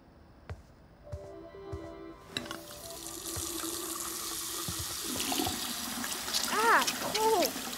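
Water running at a woodland camp in the Life is Strange 2 video game, a steady faucet-like stream that grows fuller over several seconds, with voices briefly speaking over it near the end.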